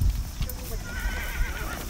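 Samurai horse at the Soma Nomaoi festival neighs and clops its hooves close by, amid a noisy outdoor crowd with people talking throughout.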